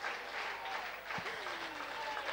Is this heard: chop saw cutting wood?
no